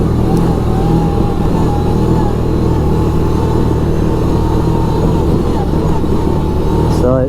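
A 2011 Kawasaki Teryx 750 Sport utility vehicle's engine drones steadily and loudly throughout a test drive, close to the listener, with a brief higher whine near the end.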